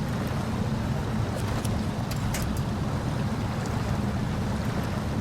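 A heavy off-road truck in SnowRunner grinds along in low gear with the differential lock engaged, a steady, dense low engine drone with continuous rumble and faint scattered clicks above it, no talking.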